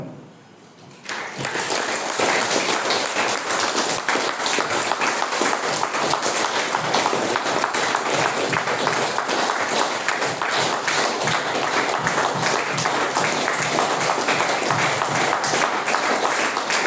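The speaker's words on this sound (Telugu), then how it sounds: "కనీసం 1 నిమిషం పాటు ఆగకుండా చప్పట్లు కొట్టాలి" A crowd at a Swami Vivekananda birthday celebration claps continuously, dense loud applause starting after a second of near-quiet and holding steady without a break.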